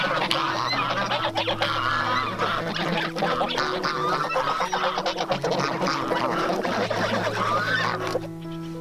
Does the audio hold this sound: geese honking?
yes